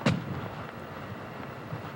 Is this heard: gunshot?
yes